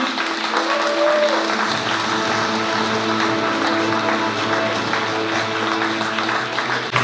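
Audience at a charity awards event applauds in a long, steady, loud round of clapping, with music and a few voices faintly under it.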